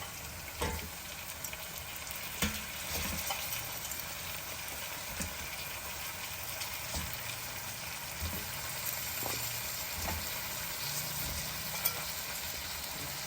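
Pumpkin pieces sizzle steadily in a hot pan, with soft scraping and stirring clicks now and then, all fairly quiet and without speech.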